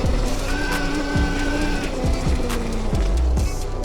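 A 73V electric motorcycle pulls hard out of corners on a test track, with a rising whine and repeated short bursts of tire scrub, loud and close.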